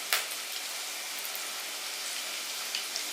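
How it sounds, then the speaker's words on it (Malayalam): Ginger, cut into long strips, frying in hot oil for an elephant yam pickle, giving a steady dense sizzle and crackle throughout with a few sharper pops. "ഇപ്പൊ ഇഞ്ചി ഇട്ട് കൊടുത്തതിന് ശേഷം നമ്മുടെ എണ്ണ ചൂടായി കിടക്കുന്നുണ്ട്"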